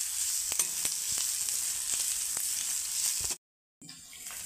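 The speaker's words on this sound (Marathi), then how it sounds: "किस घालून 2 मिनटं परतवून घेतलं." Grated bitter gourd sizzles steadily while being sautéed in a pan, with sharp stirring clicks scattered through, a brief cutoff near the end, then the frying resumes.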